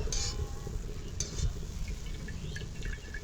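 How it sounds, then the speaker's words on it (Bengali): Boondi, small drops of gram flour batter, fry in hot oil with a quiet, continuous bubbling sizzle and occasional light stirring clicks; no voices. "সবগুলো বোঁদেই কিন্তু একদম লাল লাল করে ভাজা হয়ে গেছে"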